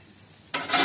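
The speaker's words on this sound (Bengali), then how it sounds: "এটাকে একটু মশলাটা ডালের সাথে একটু কষিয়ে নিচ্ছি" Spice paste with ginger paste being sautéed together with lentils in hot oil, a quiet stir at first, then a sudden loud burst of sizzling and frying that swells and stays strong.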